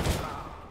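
A shotgun blast in Counter-Strike: Global Offensive, one loud booming shot that decays over a fraction of a second against steady game background noise.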